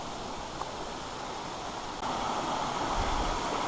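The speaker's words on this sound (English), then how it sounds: "there's bigger waterfalls over there." A steady broadband rush of falling water fills the scene at moderate distance, continuous and unbroken.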